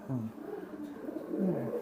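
Desi pigeons in a breeding loft coo softly and repeatedly in a low, throaty rhythm, close by against a quiet background hum.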